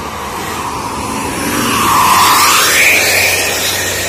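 A DMH Trans tour bus rolls past on a downhill road, its engine noise swelling from a steady roar to a louder peak, then easing off as it goes by.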